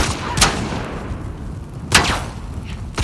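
Semi-auto rifle fire in The Last of Us Part II, two sharp loud shots about a second and a half apart with short decaying tails over low background game ambience.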